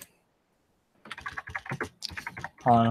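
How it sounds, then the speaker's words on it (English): Quick clattering keystrokes on a computer keyboard come in an irregular burst after a moment of silence, close by, before a voice briefly cuts in at the end. "just typing up Apple net worth."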